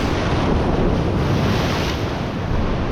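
Rough surf surging against the shore of Stewart Island, New Zealand, a loud continuous roar of breaking waves mixed with gusting wind, close and steady, with no voices.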